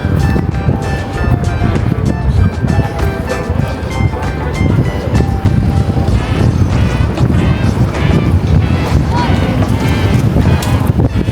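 Strong wind blowing hard across the microphone on a bay walk, a loud continuous rushing and buffeting roar that never lets up.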